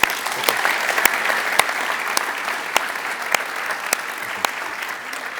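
An audience claps steadily in a lecture hall as Richard Haass is welcomed on stage, a dense sustained applause with scattered sharper claps standing out, no talking over it.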